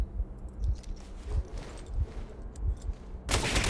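Muffled bursts of gunfire from S.T.A.L.K.E.R. Clear Sky, an enemy shooting through a wall: irregular low thuds through the clip, ending in a louder, sharper volley.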